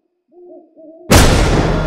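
A Badaboom explosive weapon detonates with a sudden, loud, close blast in the video game Infestation. A soft hooting tone comes first, then the explosion cuts in and its roar carries on to the end.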